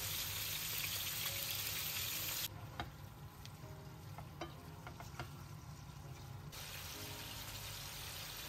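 Chicken fries in plenty of oil in a pan, sizzling and crackling steadily, with a brief quieter stretch where a few sharp pops stand out before the frying hiss returns.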